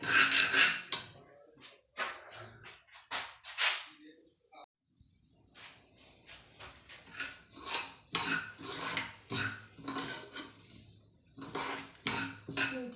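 Cracked wheat daliya is roasted in a pan, with a utensil scraping and clinking against the metal in irregular bursts and short pauses, close and fairly loud.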